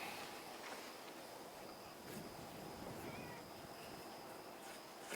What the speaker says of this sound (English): Cat's ready for his portion.